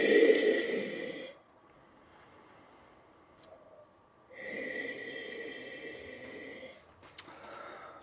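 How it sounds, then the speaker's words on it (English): A person sniffs a glass of red wine with two long, close inhaling sniffs separated by a quiet pause, each a breathy rush of air. "Let me give a little sniff here."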